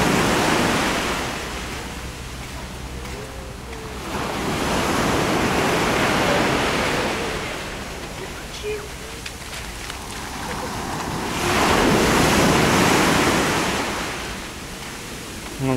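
Sea waves break and wash up on a beach at Alanya, Turkey, a continuous broad roar swelling and receding in slow surges every few seconds, close and loud, with wind buffeting the microphone.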